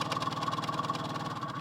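A fuel pump running while polishing diesel on a boat, a steady mechanical hum with a fast, regular pulsing rattle, close and fairly loud, continuing unbroken with no talking.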